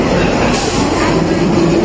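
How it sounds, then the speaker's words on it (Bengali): The 12307 Jodhpur Express at Howrah station, a dense, loud rumble of the train and busy platform noise filling the whole stretch. "আমাদের ট্রেন দিয়ে দিল 12307 যোধপুর এক্সপ্রেস।"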